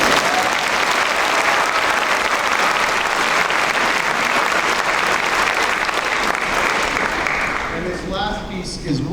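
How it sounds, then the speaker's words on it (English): Audience applause at a city honor band concert, a dense, steady wash of clapping from a large crowd that carries on for several seconds and then thins out near the end. "go ahead and clap for me"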